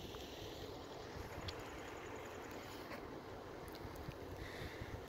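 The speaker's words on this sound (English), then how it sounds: "It's very windy here." Steady wind rushes and buffets the microphone in a broad, constant roar in cold weather at Badlands, South Dakota, with no voices present.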